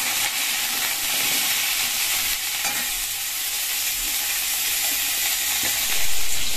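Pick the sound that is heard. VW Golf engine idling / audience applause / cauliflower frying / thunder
cauliflower frying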